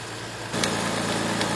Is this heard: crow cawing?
no